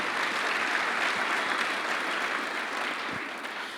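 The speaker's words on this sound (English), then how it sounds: "you can give a round of applause" Sustained applause from an audience at a youth camp leadership presentation, a dense steady wash of clapping that fades slightly toward the end with no talk over it.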